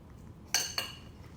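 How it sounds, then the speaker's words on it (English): Metal cutlery clinks twice against a plate while someone eats steak, two sharp close taps about a quarter second apart over a quiet room. "I'm going to eat this amazing steak."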